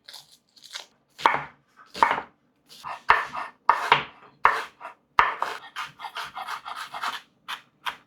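A quarter of a huge onion chopped on a cutting board: a quick run of crisp knife strikes, some clustered and some spaced, close and sharp with no talk.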